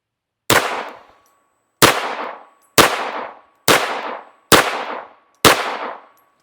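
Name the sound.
gunshots from Beretta pistol firing G2 380 ACP ammunition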